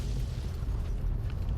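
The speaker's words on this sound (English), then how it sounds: "Those are some really nice explosions, considering the technology that was available to New Vegas at the time." A heavy explosion in Fallout: New Vegas gives a dense, loud, continuous rumbling roar that fills the whole moment with no talking.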